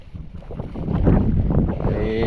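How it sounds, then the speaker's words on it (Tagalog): Strong wind roars across an outdoor microphone as the sky darkens before heavy rain, a steady broadband rush that swells louder midway and stays gusty to the end. "Eh grabe na ang lakas na. Hangin na."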